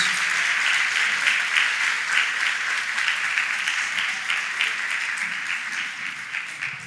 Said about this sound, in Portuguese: Você pode aplaudir o nome do Senhor Jesus?